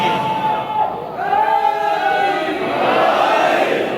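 A large crowd at a Muharram majlis chants a slogan for Ali in unison, a loud sustained roar of many voices with rising and falling tones throughout.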